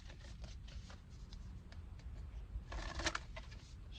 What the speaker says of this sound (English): That ain't how you shuffle cards.